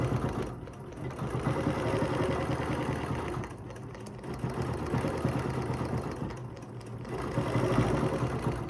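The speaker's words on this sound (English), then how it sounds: "I'm just going to go and stitch my design again" A domestic or longarm sewing machine hums steadily as it stitches a geometric quilt design guided along a ruler, with a continuous mechanical whir that dips briefly at pauses before running on.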